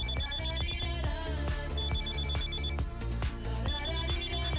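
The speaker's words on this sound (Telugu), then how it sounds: "ముందు ఫోన్ కలుపు." A telephone rings with a repeated bell-like trill in bursts as a call is placed in a Telugu film scene, loud and clear over steady background music, with no talking.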